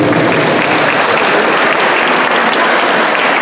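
An audience at a children's music school reporting concert in Sambir applauds steadily and loudly, a dense continuous clapping that fills the whole stretch with no pauses.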